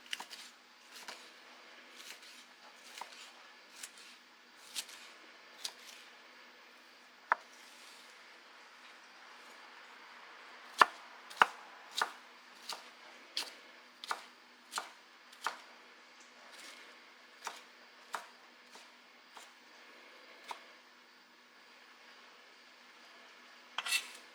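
Green bell peppers being sliced on a cutting board, the knife striking the board in a steady, unhurried series of crisp taps, faint and close, with no voices.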